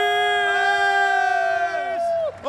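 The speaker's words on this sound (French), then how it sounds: "Applaudissements pour Marcus" A crowd of young fans at Paris Games Week 2016 lets out a loud, sustained unison cheer that holds steady for about two seconds, then breaks off into scattered shouts.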